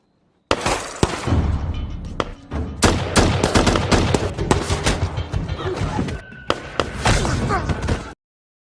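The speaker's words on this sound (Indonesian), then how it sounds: "Hingga saat tengah malam mereka pun dikejutkan saat Samsul dan rekannya terlibat baku tembak" Rapid bursts of gunfire crack and rattle nearly nonstop, loud and close, with sharp impacts and debris clattering between volleys, like a film shootout.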